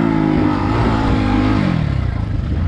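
A 2022 SSR SR300 Chinese dirt bike engine held at wide open throttle outdoors, a loud steady revving drone that dips slightly in pitch near the end, sounding a little choked.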